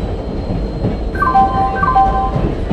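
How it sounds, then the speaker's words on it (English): A passenger express train in the video game Indian Train Simulator rumbles in at a station with a low, steady rolling noise, while a short chime of several clear tones sounds over it. "Passenger Express is arriving at platform number"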